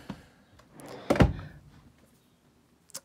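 A small lower drawer in the kitchen of a 2018 Outdoors RV 26 RLS travel trailer shuts with one solid, close wooden thunk, preceded by a faint slide and followed by quiet.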